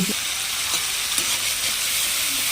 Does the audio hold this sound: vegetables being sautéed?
yes